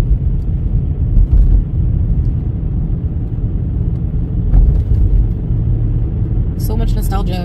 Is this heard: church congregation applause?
no